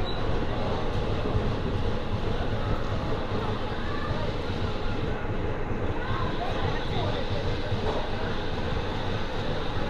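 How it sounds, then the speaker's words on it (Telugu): Train 17219 from Machilipatnam to Visakhapatnam pulls into platform 2 at Bhimavaram Town station: a steady, loud rumble of the carriages fills the whole stretch, with a busy, crowded platform murmur mixed underneath. "సో భీమవరం టౌన్కి మన ట్రైన్ వచ్చేసి ప్లాట్ఫామ్ 2 అయితే వచ్చింది"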